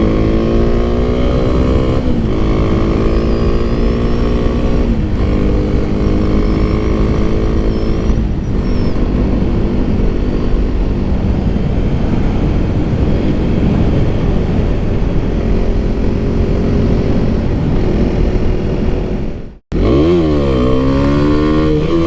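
A Kawasaki KLX300SM supermoto motorcycle runs loud and close at sustained high revs, its engine pitch climbing and dipping through shifts. The sound cuts out abruptly near the end, then comes back revving.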